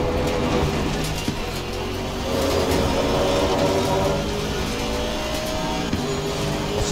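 An Aston Martin Vantage V8 race car in the sim game ACC drives continuously, its engine droning loud and steady with shifting pitch as it accelerates and holds speed, with no talking.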